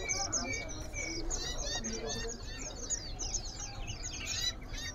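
Prinia songbirds, a stock of caught birds still eating insects, chirp rapidly in a busy overlapping chorus of high trills and tweets, fairly close, with low background voices and murmur underneath.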